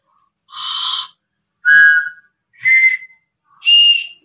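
Four short, reedy toy mouth-organ blows with pauses between, each note higher than the last, loud and close.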